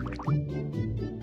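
Cartoonish water sounds from a children's letter-cleaning game, with soft drips and a gurgling pour rinsing soap off a letter, short and close, with no talk.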